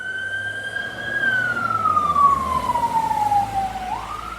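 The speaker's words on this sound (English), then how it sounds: "Police car going past." A police car siren sweeps past a residential garden during a quiet lockdown spell, its wailing tone gliding steadily down in pitch as the vehicle approaches and recedes, fairly loud over low background traffic rumble.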